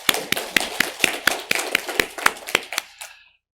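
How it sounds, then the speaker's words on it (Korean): A church congregation during Sunday worship claps in a slow, even rhythm, about a dozen distinct group claps before stopping abruptly. "우리 하나님께 감사와 영광의 박수를 올려드리겠습니다"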